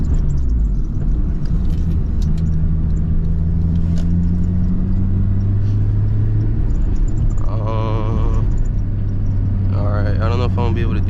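Engine of an Acura RSX Type S running on the motor alone with no nitrous, pulling on a freeway; a steady loud rumble with rising tones from inside the car, and a voice speaks over part of it.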